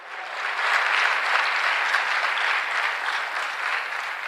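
Sustained applause from a church congregation at a sermon: a thick, even roar of many clapping hands lasting several seconds, steady throughout with no talking.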